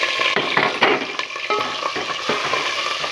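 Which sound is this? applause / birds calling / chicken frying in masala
chicken frying in masala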